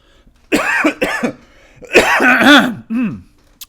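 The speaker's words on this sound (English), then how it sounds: "So attractive, coughing into the microphone." Close, loud coughing into a microphone: two short coughs, then a longer, harsher fit with throat clearing, ending in one more brief cough.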